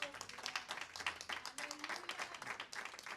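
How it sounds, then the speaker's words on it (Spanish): Congregation applause during a church sermon, a brief burst of many hands clapping at a fair distance, steady and fairly faint throughout. "Podemos darle un aplauso al Señor."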